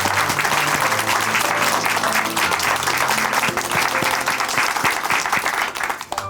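Warm applause from a church congregation at a Korean church service, a full steady clapping wash close by, with a soft sustained keyboard or organ chord underneath and a faint voice near the end.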